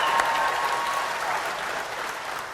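A live audience at a talk show claps steadily for a man's father, a lifelong Cubs fan, the applause fairly loud and even and slowly tapering over a few seconds.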